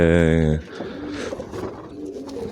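A pigeon coos softly and close by after a brief tonal sound at the start, with light background noise.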